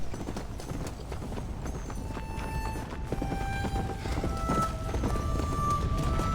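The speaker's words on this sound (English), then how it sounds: "Let's get our horse back here." Horse hooves clip-clop steadily and close in Red Dead Redemption: Undead Nightmare, a continuous trotting rhythm over a game background with no talk.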